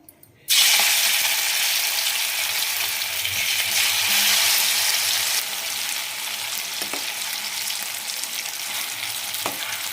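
Amaranth leaf pieces hit hot oil in a kadai and fry with a loud, steady sizzle that starts abruptly and continues without a break, easing slightly partway through, with a couple of faint clicks near the end.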